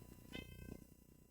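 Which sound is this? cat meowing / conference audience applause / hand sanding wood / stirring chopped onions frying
cat meowing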